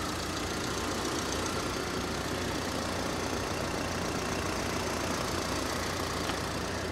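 An Audi engine, thought to be a small 4-cylinder, idles steadily at close range in a salvage yard, a continuous even hum with a broad noisy texture and no voices.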